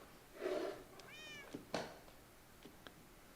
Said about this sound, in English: I heard a cat somewhere.